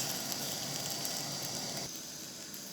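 Beaten eggs cook in a frying pan with a soft, steady sizzle and hiss that dips slightly quieter near the end.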